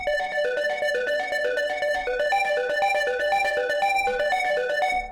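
Bright synth keyboard notes in a quick, uneven run of short tones, played loud and close with no talking.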